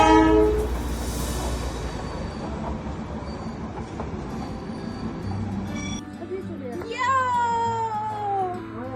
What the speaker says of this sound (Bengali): পাহাড় ঘেরা রেল লাইন আর সেই নীল আকাশের নিচে টয় ট্রেনের দৃশ্য ক্যামেরায় বন্দি না করে উপায় ছিল না